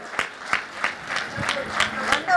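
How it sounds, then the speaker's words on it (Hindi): Audience clapping at a talk in Lucknow, a steady patter of hand claps with regular louder bursts, fairly close and sustained, with a voice faintly underneath. "जोरदार बजाइए तालियां।"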